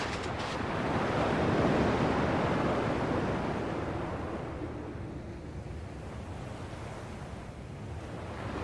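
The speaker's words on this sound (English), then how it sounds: "At least the waves sound the same." Ocean waves in the video game Kingdom Hearts wash in a steady surf with a broad roar that swells and then eases off a little, mixed with a breezy wind hiss and no voices.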